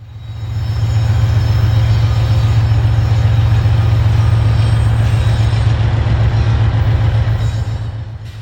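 A freight train rolls through Inman Yard in Atlanta, a heavy low diesel rumble that swells from quiet to a loud steady roar as it passes close by, then begins to fade at the end.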